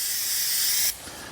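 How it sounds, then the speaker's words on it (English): Tire dressing sprays onto a towel in a loud, steady aerosol hiss lasting just under a second, then cuts off, leaving a faint quiet tail with no voices. "spray it directly on your towel"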